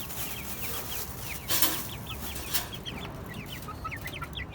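Domestic village hens cluck steadily in a farmyard, with repeated short calls from several birds overlapping and two brief louder bursts, no voices heard.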